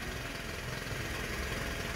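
A Nusun HM50E Bandit, a small Honda Monkey clone mini motorcycle, runs with its tiny engine ticking over in a faint, steady, buzzing idle and no talking.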